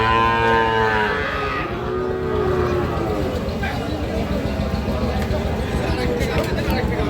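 At the Ambari cattle haat, where young bull and heifer calves are sold, a loud moo rings out at the start and then gives way to steady crowd babble and nearby talking.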